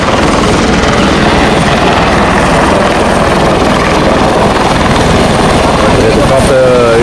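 A Blue Hawaiian helicopter on Hawaii's Big Island flies close by, its rotor thudding in a loud, steady, rapid beat throughout, with voices murmuring faintly underneath.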